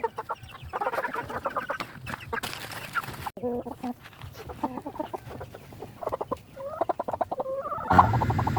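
Rhode Island Red chickens about six months old clucking and calling repeatedly at close range, with several overlapping birds and a sharper squawk near the end.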